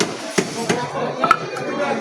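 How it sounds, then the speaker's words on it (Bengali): A fishmonger cuts fresh rohu fish at a market stall, sharp chopping knocks landing roughly every third of a second, each one close and distinct over faint market background noise. "দাদাও কাটছেও খুব সুন্দর করে।"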